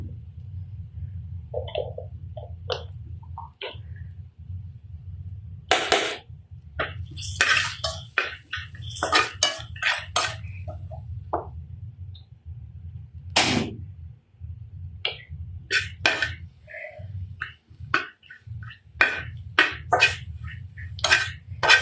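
Fish and vegetables sizzle while frying with turmeric, chilli and mixed spices in a home pan. The sharp crackles and spits come in irregular bursts over a low, steady hiss.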